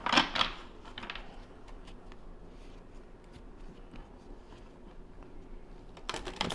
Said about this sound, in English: These cards are still really new, so they're kind of hard to shuffle.